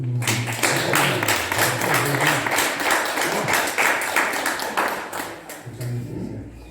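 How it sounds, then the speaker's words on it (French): A church congregation applauds the choir during an anticipated Pentecost Mass, with crisp, dense clapping that fills the space for several seconds before thinning and fading out near the end. "On peut les applaudir."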